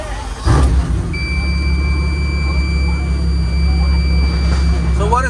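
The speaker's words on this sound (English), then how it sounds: "Sound is warning because the doors are open." With its doors open, a Pagani Huayra BC Tempesta sounds a warning of steady, high electronic tones that hold continuously over a low, rumbling background hum.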